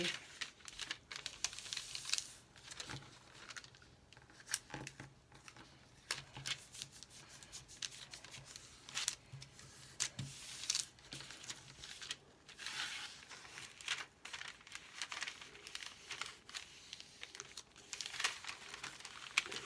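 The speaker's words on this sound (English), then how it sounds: "if we take this and we fold it part way" Paper bag being folded and handled, a steady run of close crinkling and rustling with scattered sharper creases and crackles throughout.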